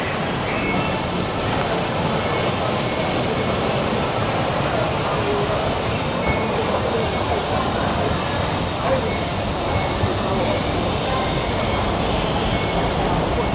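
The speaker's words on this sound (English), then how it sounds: "Give you a little sample, unedited, taking a train from Siam Paragon." A BTS Skytrain carriage rolls out from Siam Paragon in Bangkok with a continuous, even rumble and wheel hiss that holds steady throughout, with no change in level.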